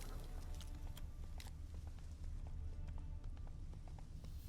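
Roach the horse galloping in The Witcher 3, a steady run of soft clip-clop hoofbeats thudding close and loud under a constant low rumble of game sound.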